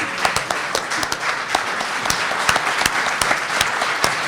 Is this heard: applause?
yes